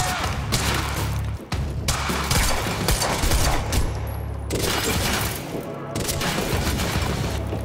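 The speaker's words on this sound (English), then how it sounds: "Why the hell is Monarch firing at us?" Sustained automatic gunfire from Monarch soldiers in the video game Quantum Break, loud and dense with repeated bursts and heavy impacts across the whole stretch, with brief gaps between volleys.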